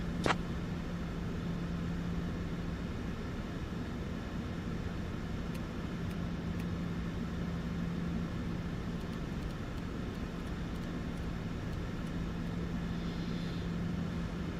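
A jet airliner rolls for takeoff on runway 03 right in Microsoft Flight Simulator 2024, giving a steady, continuous broadband engine roar with a faint hum that holds at an even level throughout, with no talk.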